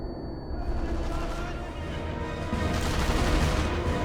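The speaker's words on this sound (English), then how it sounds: "He's shooting through the wall, but he managed to damage me." Dense, continuous gunfire from an enemy soldier in the war shooter Sniper Elite V2, a loud sustained barrage of shots with rumbling booms through the whole stretch, with a voice talking over it.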